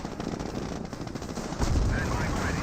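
Tank cannon and machine-gun fire from a Cromwell in the WWII strategy game Company of Heroes, a continuous dense rattle of shots with a heavier low boom near the end, mixed with battle noise.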